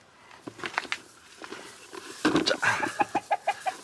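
Hens in a backyard coop cluck close by in short bursts, building into a rapid run of evenly spaced clucks and squawks near the end.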